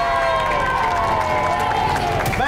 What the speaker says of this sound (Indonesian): Boleh tepuk tangan dulu semuanya di belakang